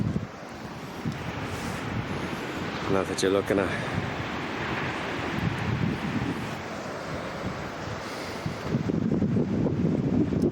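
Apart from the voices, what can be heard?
ocean waves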